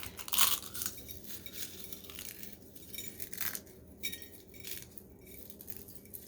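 Eggshells cracked and crushed by hand, giving a sharp brittle crunch near the start followed by scattered, faint crackles and crunches over a quiet background.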